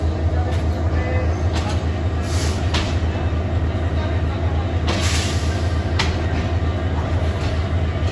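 The Kurigram Express stands and moves at Santahar station in Bangladesh, producing a continuous loud low rumble with scattered metallic clanks and clicks throughout.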